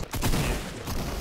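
Gunfire in the video game Fortnite, a dense rapid fusillade of loud overlapping shots filling the whole short burst with no pauses.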